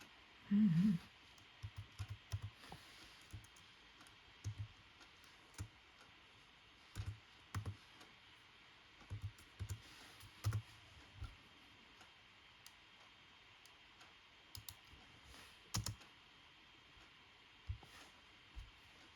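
Typing on a computer keyboard, sparse quiet keystrokes and clicks in short irregular bursts, close, with no talk.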